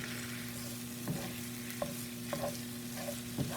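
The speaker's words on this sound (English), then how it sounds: "giving it a good old fry" Corned beef hash frying in a skillet, heated through with a steady low sizzle and occasional soft scraping stirs of a spatula, close and continuous with no talk.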